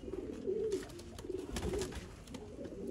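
Soft, low cooing from a Sialkoti pigeon repeats in short throaty bursts, close by, over faint background noise.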